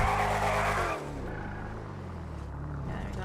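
A car being parked in the Hoarding Simulator video game, loud engine revving and tire squeal that cut off abruptly, followed by a lower idling rumble with faint engine noise continuing.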